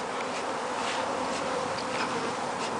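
Constant close buzzing of many honey bees, a dense steady drone with no voices.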